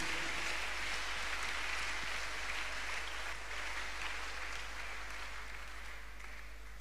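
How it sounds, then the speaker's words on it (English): A congregation applauds continuously at a church miracle service, a dense wash of clapping that holds steady and then slowly tapers off. "Shall we clap our hands unto God of the choosing?"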